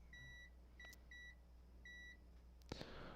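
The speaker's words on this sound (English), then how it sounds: "I'm sure you can hear that annoying beep." A continuity tester emits a high electronic beep several times in short tones against a quiet hum during a Klipsch RT-10 speaker repair, followed by a couple of brief clicks near the end.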